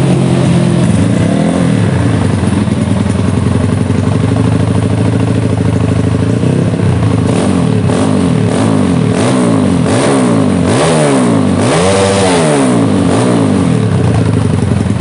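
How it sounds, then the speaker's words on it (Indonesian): A bored-up motorcycle fitted with an aftermarket GP7 exhaust revs hard and close, its engine note surging and dropping in a run of quick repeated throttle blips over a loud, constant roar. "Untuk bawaan knalpotnya ini pakai knalpot aftermarket ya,"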